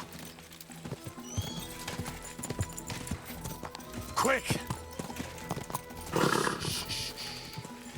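Video game horse hooves clip-clop in a steady rhythm, with two loud neighs breaking through; a voice briefly speaks over the sounds.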